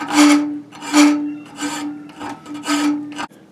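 Steel file rasps across the metal of an old knife in four or five long, close, loud strokes with short gaps between them, and no talking.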